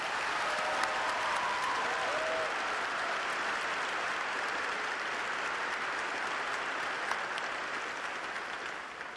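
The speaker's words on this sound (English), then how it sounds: "Let's give them a round of applause." A high school graduation audience applauds three retiring teachers with a long, even round of clapping. It sounds broad and a little distant, as from a large crowd, and carries on steadily for about nine seconds.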